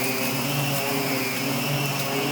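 A central vacuum system runs with a steady, loud broadband roar and a constant whine, holding even for the whole stretch with no voices.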